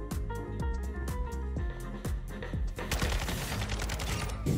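Video game gunfire rings out as a rapid series of sharp, evenly spaced shots, building into a denser burst in the last seconds.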